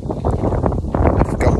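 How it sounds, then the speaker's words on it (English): Wind buffeting an outdoor microphone during a live show, a loud, steady low rumble with gusty bursts and no speech. "It's windy."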